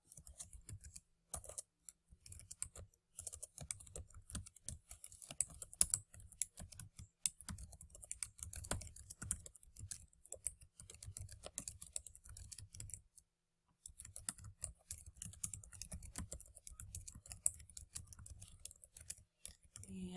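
Someone types on a computer keyboard in quick, continuous runs of close, crisp key clicks, with one short pause partway through.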